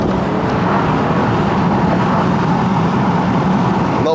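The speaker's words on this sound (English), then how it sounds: "Do you guys wanna see a 3-ton Rolls Royce running through the bends?" A 3-ton Rolls-Royce Ghost's engine drones loudly and continuously from inside the car as it runs through bends, with steady road roar and no voices.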